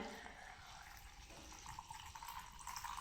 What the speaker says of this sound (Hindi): अभी मैं इसमें पानी डालने वाली हूँ नॉर्मल।